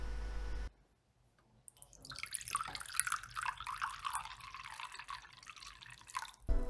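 Green coolant is poured into the water cooling loop of a 2006 Sapphire X1950 XTX Toxic graphics card, a close, trickling and splashing liquid stream that starts after a brief pause and keeps flowing unevenly.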